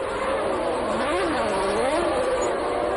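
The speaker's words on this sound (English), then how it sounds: "The track beginning to dry as the field set off." Formula 1 race cars from the 1997 season set off on a drying track behind the pace car: a steady, continuous engine roar with rising and falling pitch sweeps, dense and loud throughout.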